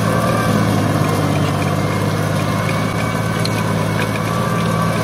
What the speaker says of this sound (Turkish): Motoru zorluyor ama gayet de çekişi motorun yine iyi.